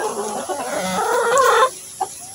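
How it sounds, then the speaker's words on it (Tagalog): Backyard chickens, including stags, clucking close by in a busy, continuous chatter, with a brief peep near the end. "Yan yung ating mga manok yan"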